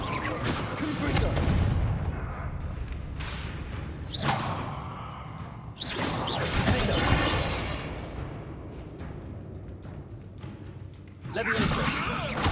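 Confringo explosive spell cast in the Hogwarts Legacy video game, heard as several loud, booming blasts with whooshing tails spread across the stretch, mixed with game voices and background score.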